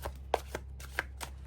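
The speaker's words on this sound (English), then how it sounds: "One more shuffle." A deck of tarot cards is shuffled during a reading: a handful of soft, separate card slaps and riffles, fairly close, over a steady low hum, with no talking.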